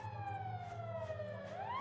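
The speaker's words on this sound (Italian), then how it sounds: "si è chiusa e si è attivata una sirena" A siren in a horror video game wails nearby, its tone sliding slowly downward and then rising again in one continuous sweep, steady and moderately loud with no voices.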